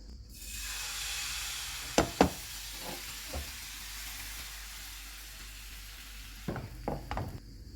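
Crepe batter hits a hot oiled frying pan over a low flame, a steady sizzle throughout with a few sharp clacks and knocks from the pan and utensil.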